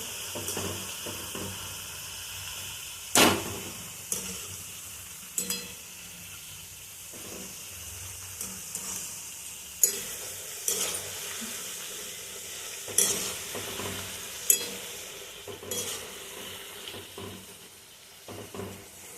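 Spicy cumin shankarpali deep frying in hot oil, a steady bubbling sizzle with intermittent louder crackles and stirring clinks throughout, no voices.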